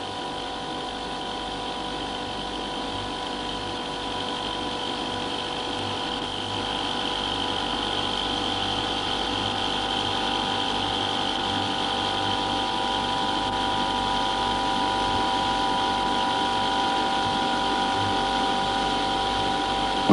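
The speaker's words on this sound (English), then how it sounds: "the electric motor is switched on again to keep the machine running in the reverse direction" Stirling machine driven by an electric motor and running in reverse as a heat pump, a steady mechanical hum with a faint whir and light rhythmic chatter, unchanging throughout and rising slightly in level.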